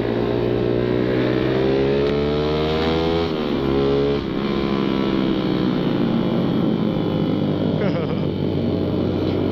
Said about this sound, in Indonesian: Mumpung jalan lurus, gue berani gaspol.